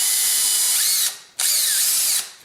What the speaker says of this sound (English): I have a 1/2 inch flat bottom bit chucked up in the drill.